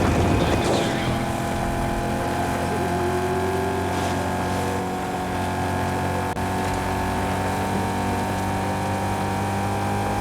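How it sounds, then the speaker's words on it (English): A sustained, steady engine drone from a car in the Fortnite video game, resembling a Chevrolet Camaro with a big V8, holds a continuous hum for the whole stretch with little change in pitch or loudness. "Engine sound? It kind of sounds like a Chevrolet Camaro."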